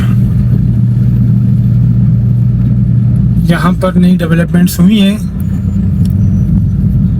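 Heavy, blocked traffic on the Islamabad Expressway at Kak Pul where roadworks narrow the main road: a loud, steady low rumble of engines close by, with someone talking over it partway through.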